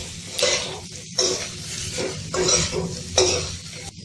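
Spiced boiled potatoes stirred in a frying pan for jeera aloo, with a spoon scraping and clattering against the pan in several distinct strokes, close and moderately loud over a faint sizzle.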